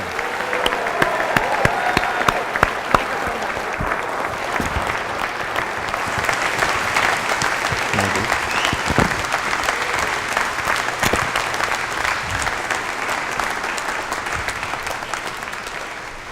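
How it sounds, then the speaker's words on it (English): A large audience at a University of Guelph convocation gives the graduates a sustained, loud round of applause, dense clapping that holds steady throughout. "let's hear a big round of applause for all of those graduates"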